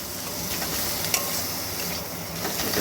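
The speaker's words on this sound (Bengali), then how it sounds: "যতক্ষণ না টমেটোটা পুরো গলে যাচ্ছে ততক্ষণ এইভাবেই নাড়তে থাকবো" Tomato masala being stirred and fried on a medium flame for a mustard-oil fish curry, giving an even, close sizzle with a soft scraping of the spoon throughout.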